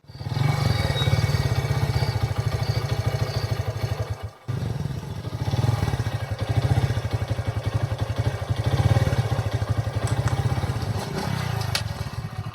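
A scooter engine putters steadily on a ride through Lajpat Nagar toward the police station, a close, loud mid-pitched drone with a brief cutout before it picks up again.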